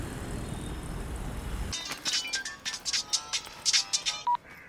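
A telephone rings in short repeated electronic bursts, fairly faint, following a low rumbling background that cuts off abruptly.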